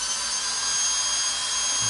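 A power drill whirs steadily and loudly up close, spinning to twist wires clamped in a vise, with a continuous grinding buzz and no speech.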